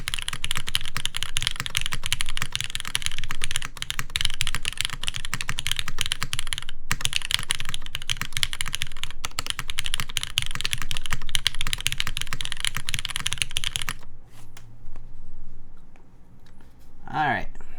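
Rapid clacking keystrokes on a Monokei Kage prototype mechanical keyboard fill most of the clip, dense and close, then stop, followed by a brief voice.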